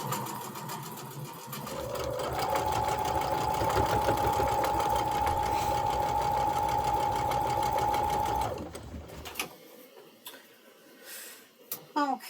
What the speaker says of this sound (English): and sew them all together